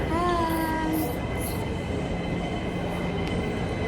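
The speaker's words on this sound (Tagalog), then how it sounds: "Yun na pala yung tren." A train in Hong Kong rolls along with a steady rumble, opening with a bright squeal of wheels or brakes that fades into continuous rail noise, close and fairly loud.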